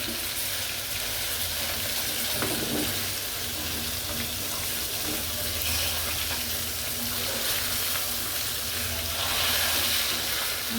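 Sarputi fish frying in a pan, a dense continuous sizzle of hot oil heard up close and steady throughout, with occasional faint clinks and no speech.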